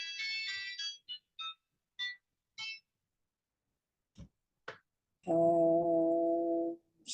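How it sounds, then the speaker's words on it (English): A phone rings with bright electronic melodic chirps in short bursts, then a longer sustained harmonic tone, with a few faint clicks between them in an otherwise quiet room. "I'm sorry that I have to answer the phone"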